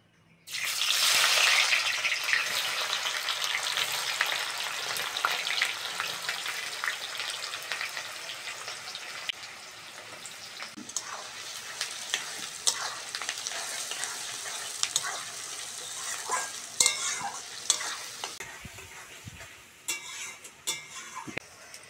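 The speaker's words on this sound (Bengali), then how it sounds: "পেঁয়াজটা হালকা করে ভেজে নিয়েছি" Chopped onion frying in hot oil with sugar caramelised for colour, for a village-style red chicken curry; a loud steady sizzle begins at once and continues throughout, with occasional stirring clinks.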